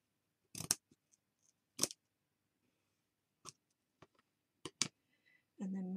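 Scissors cutting card stock for a handmade Christmas card, a few close crisp snips spaced out against near silence, followed by a short noise at the end.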